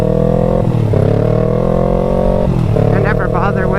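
Loud motorcycle with a race exhaust system and no baffle, a steady, heavy, droning rumble held throughout, dipping briefly twice as the revs shift, with speech over it.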